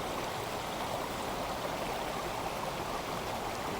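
Pasta water pours into a pan of jerk shrimp rasta pasta with peppers and broth, making a steady, even, close rushing stream with no voices.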